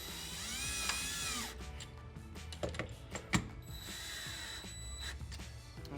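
Screws are driven down and tightened on a Delta deck mount rough for a Roman tub with a power driver, giving a whirring motor followed by ratcheting clicks and short bursts, close by.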